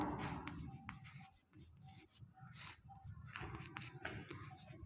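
Chalk or marker writing a perimeter formula on a classroom board, with short scratchy strokes and pauses, quiet and close, with faint background noise.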